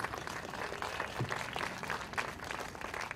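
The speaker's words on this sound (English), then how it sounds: "Big round of applause." Faint, even applause rises from the audience at a golf awards ceremony, sounding distant and low in level, with a continuous patter of hands and no voices above it.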